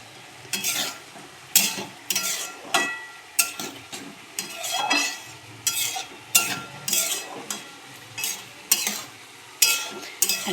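A spoon stirs egg and spring onion curry with coriander and cumin in a pan, scraping and clinking in a steady repeated rhythm over continuous sizzling frying, close and clear.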